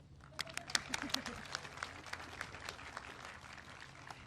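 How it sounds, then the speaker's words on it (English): Faint, scattered clapping from a small audience at a 2021 high school graduation ceremony, individual distinct claps popping out irregularly over a quiet room. "You can clap."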